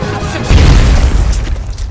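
A grenade goes off in a film scene, a deep, loud boom swelling about halfway through and rumbling on beneath a dense, noisy wash of sound.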